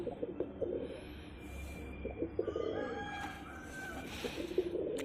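Soft, low pigeon coos murmur steadily in the background, with other faint bird calls chirping faintly above them.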